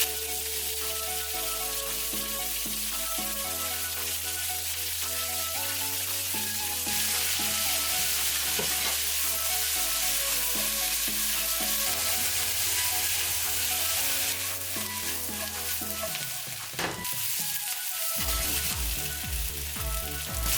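Onions fry in hot oil seasoned with salt and sugar, giving a steady sizzling hiss that sits beneath loud music throughout.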